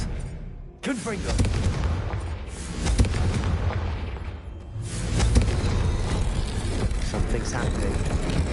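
Confringo blasting spells in Hogwarts Legacy set off loud explosive booms one after another, heavy and close, over a dense, continuous rumble of combat effects.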